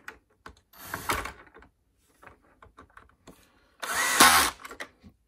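A screwdriver working on a Hoover WindTunnel Plus upright vacuum cleaner during refurbishment, giving two short whirring bursts, one early and a louder one near the end, with small clicks and handling noises in the quiet between.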